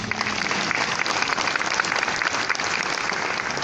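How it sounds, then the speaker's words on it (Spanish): Loud, sustained applause from a large crowd, dense clapping continuing steadily throughout without pause. "Lo recibimos con fuertes aplausos."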